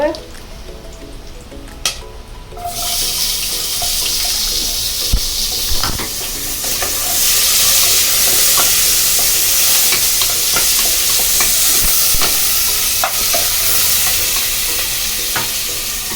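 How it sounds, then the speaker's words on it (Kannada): Chopped onions for prawn biryani hit hot oil and break into a loud, continuous sizzle, with frequent scraping stirs and clinks of a spoon against the pan. "ಈರುಳ್ಳಿ ಫ್ರೈ ಮಾಡ್ಕೊಳ್ಳೋಣ ಫಸ್ಟು"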